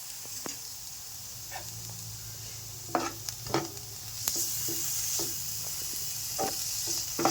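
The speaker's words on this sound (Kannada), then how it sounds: "ಅದನ್ನು ಸ್ವಲ್ಪ ಹೊತ್ತು ಎಣ್ಣೆಯಲ್ಲಿ ಫ್ರೈ ಮಾಡ್ಕೊಳ್ಳಿ, ಹಸಿ ಸ್ಮೆಲ್ ಹೋಗಲಿ." Onion, green chillies, curry leaves and crushed ginger and garlic frying in oil for tomato kurma give a soft, quiet sizzle, broken by a few scattered clinks and stirring taps.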